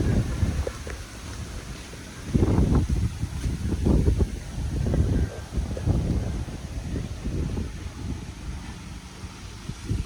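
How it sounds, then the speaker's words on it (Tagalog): Strong wind roars and buffets the microphone in heavy, uneven gusts, low rumbling bursts rising and falling throughout. "grabe ang hangin."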